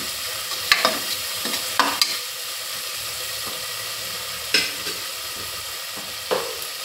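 Tomato pieces sizzle in a pan as they soften for an aloo matar curry, with a steady frying hiss and a handful of sharp scraping stirs spaced irregularly, close by and with no talk.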